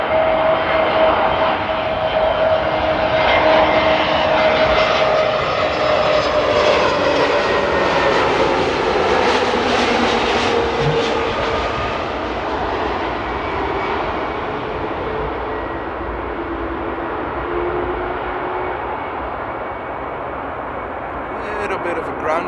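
An Airbus A320neo arriving on SAS flight from Oslo lands at Amsterdam airport, its loud jet engine roar sweeping close then settling into a steady, fading rumble with a high whine, sustained throughout with no talk.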